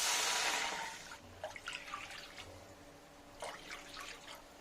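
Water pours into a cooking pot for mango rava kesari in a steady hissing stream for about a second, then tapers off into scattered drips and light splashes.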